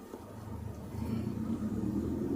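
A big car drives along a road, its engine giving a steady, low rumble that swells slightly louder partway through, heard close and alone with no talking.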